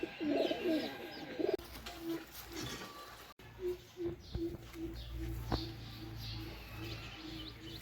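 Sick pigeons, a whole family kept in a newly bought cage, coo in a steady repeating series of soft, low, close coos. Scattered rustling and faint chirps come in between.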